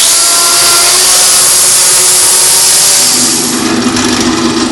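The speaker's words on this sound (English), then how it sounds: "the chainsaw." A chainsaw cuts larger pieces of yew or ash wood for a Windsor chair, a loud, close, continuous whine that shifts in pitch as it bites deeper into the wood, with no talk.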